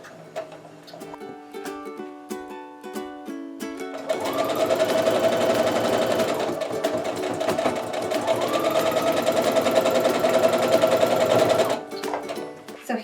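A sewing machine stitches a quilt block, starting with slower intermittent runs, then running steadily and loudly for about eight seconds before stopping.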